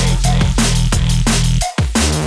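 A second synth bass patch modelled on a tune plays a driving riff of loud, gritty, distorted bass notes with rhythmic hits and one brief dropout, dense and alone throughout.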